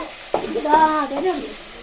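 Fish frying in a pan sizzles close and loud, with a sharp burst as it starts, then a hissing crackle that gradually settles over a couple of seconds.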